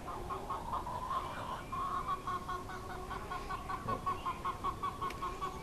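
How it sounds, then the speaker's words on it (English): Farm chickens kept as backyard livestock, clucking and murmuring in a loose, repeated rhythm at moderate distance, fairly quiet and unaccompanied by talk. "That is our chickens."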